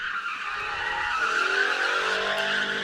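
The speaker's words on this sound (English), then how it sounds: "I think you can work it out a little bit to where you can drift them fairly easily." A Subaru BRZ drifts at a Sebring drift event, its tires squealing in a steady, sustained screech with engine noise beneath, heard at a moderate distance and without talk.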